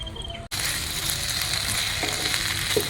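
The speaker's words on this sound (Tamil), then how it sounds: "இப்போ நம்ம வந்து ஸ்லைஸ் பண்ண உருளைக்கிழங்கும் வாழைக்காயும் ஒன்றா சேர்த்து வறுவல் பண்ண போகிறோம்" Slices of potato and raw banana fry in hot oil, giving a steady crackling sizzle that stays continuous and moderately loud, with a few faint clinks partway through.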